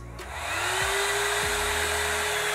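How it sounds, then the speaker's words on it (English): A Lena AirPlusStyler hair dryer on its higher heated setting starts up and settles into a loud, steady whooshing roar with a constant high whine, running continuously at close range. "the blow dryer and the heated setting is like a higher blow dryer"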